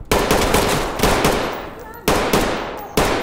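Bursts of automatic gunfire in a SWAT tactical shooter game, three or four loud rapid volleys with short gaps between them, close and sharp.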